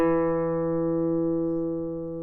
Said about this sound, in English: And we'll go ahead and try to pluck that one.